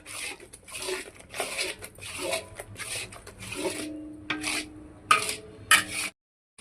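A spoon scrapes and stirs a thickening coconut sweet mixture in a pan, giving a steady run of rhythmic rasping strokes with a few sharp clinks near the end before it stops.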